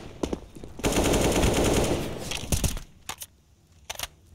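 Sustained automatic gunfire from wall bangs in Counter-Strike: Global Offensive during a BLAST Premier match, a loud dense burst followed by scattered single shots and short volleys, with no one talking.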